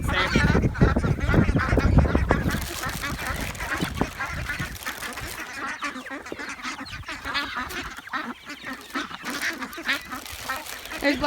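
Chickens and ducks flock noisily for thrown Cheerios, a dense, loud mix of honking quacks and squawks that starts out crowded and thins a little later, with a person's voice in the background.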